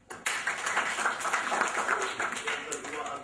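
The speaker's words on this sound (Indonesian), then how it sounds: "Tepuk tangan buat beliau." An audience at an Indonesian book discussion event claps, a steady patter of hands at moderate distance lasting a few seconds.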